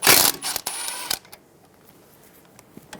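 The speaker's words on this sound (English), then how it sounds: "Using a 12mm socket, remove the bolt for the ABS and brake line brackets." A ratchet socket wrench with a 12mm socket clicks rapidly in a short burst while removing the bolt on the ABS and brake line brackets of a 2007-2011 Toyota Camry front steering knuckle, then quiet follows.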